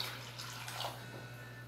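Water running into a container to fill it while mixing a liquid color-safe bleach solution, a steady soft pour with a faint trickle, close and fairly quiet throughout, no talk.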